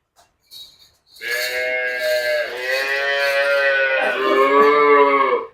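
A Holstein Friesian cow moos loudly and close by in one long, drawn-out call that shifts pitch partway, after a few faint sounds at the start.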